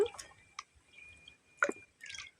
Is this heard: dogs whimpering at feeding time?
no